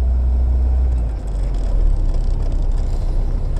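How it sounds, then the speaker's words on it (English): Steady low rumble of an Austin Ambassador car under way, heard from inside the cabin with its gearbox running fairly quietly beneath continuous road and engine noise, no talking. "This gearbox seems much more quiet than the one in the Princess"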